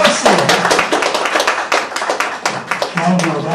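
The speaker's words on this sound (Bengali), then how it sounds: "জোরসে তালিয়া, জোরসে জোরসে।" Audience applause at an award ceremony, with close claps and taps that come in bursts, while a presenter's voice talks over them.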